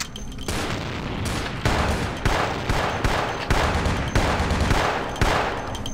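Gunfire in Vampire: The Masquerade Bloodlines, a string of loud, close shots, likely shotgun blasts, spaced roughly every half second to second against a dense, noisy game background.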